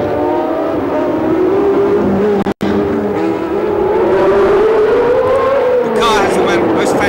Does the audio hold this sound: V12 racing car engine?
yes